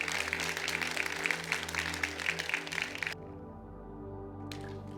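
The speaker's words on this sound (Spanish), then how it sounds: "Den un fuerte aplauso al Rey de Reyes." Loud church congregation applause with dense clapping for about three seconds, then cutting off abruptly to a low hum.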